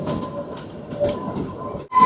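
The Kalka–Shimla toy train runs through the hills with a steady low rumble of wheels and carriages, a faint high whine running through it, and a brief dip near the end before the noise swells again.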